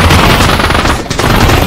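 Loud, dense automatic gunfire in the Counter-Strike: Global Offensive VR game, a rapid unbroken burst with a short dip before it continues.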